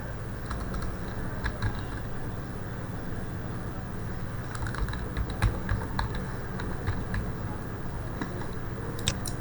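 A password is typed on a computer keyboard, a steady run of close, quick key clicks with short pauses between bursts, no talking.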